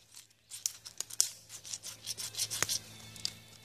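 A magnesium block is scraped into shavings at a campsite, giving a series of short, close, dry rasping strokes with an irregular rhythm.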